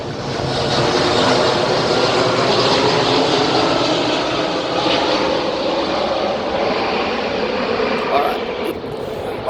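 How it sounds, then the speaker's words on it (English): A fixed-wing propeller airplane passing overhead at a football ground, a loud, steady broadband engine drone filling the whole stretch with little change in level. "We'll just wait for this plane to go over the top."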